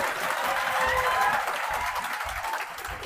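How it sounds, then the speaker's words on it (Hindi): An audience applauds at a coaching institute event in India, a dense steady wash of clapping that holds throughout and slowly fades toward the end, with no talk over it. "एक बार इनके लिए जोर से ताली बजाइए"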